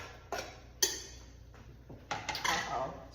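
Chopped onions are tossed into a pan for tacos, a few scattered clacks and soft thuds against the pan, with a quieter scrape and shuffle at the end over a faint background hum.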